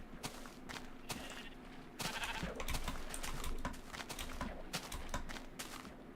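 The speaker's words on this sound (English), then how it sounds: "Oh, hey, look, pink sheep." Sheep in the Minecraft video game bleat in short, repeated calls, mixed with clicking and tapping sounds at a moderate, steady level.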